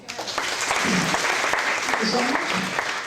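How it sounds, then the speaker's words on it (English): Audience applause at a high school senior all-nighter event, a dense steady wash of clapping lasting the whole stretch, with voices and chatter mixed in underneath. "Give him a big round of applause."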